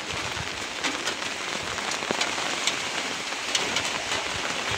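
Heavy rain falls steadily during a storm with wind, a dense, even hiss with scattered drops pattering on nearby surfaces, and no voices.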